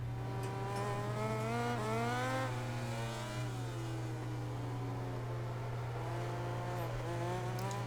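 Motorcycle racing in MotoGP 20 with a crash, a steady engine drone and rising, falling revs that waver and swoop throughout, loud and continuous with no clear impact standing out.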